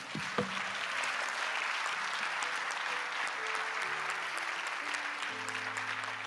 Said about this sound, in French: Est-ce qu'on peut donner des acclamations pour lui?